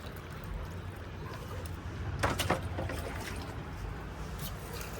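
Water pours into a broken flower pot and splashes through onto a mat below, a soft steady trickle with a brief louder gush in the middle.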